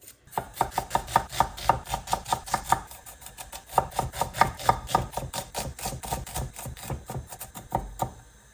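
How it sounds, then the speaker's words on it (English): An onion being finely chopped with a knife on a board, rapid steady thuds in two bursts with a brief pause between, close and clear with no talk. "So I'm just gonna finely chop up one onion"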